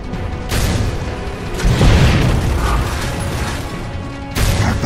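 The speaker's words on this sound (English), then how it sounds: "Delta, we're under heavy mortar fire." Mortar rounds pound down in Gears of War 2, heavy booming blasts and rumbling debris arriving in loud waves, close and dense, with scattered mechanical clatter between the impacts.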